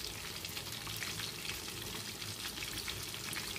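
Fish pieces frying in hot oil with green chillies and curry leaves, a dense continuous sizzle and crackle, close and steady throughout with no talking.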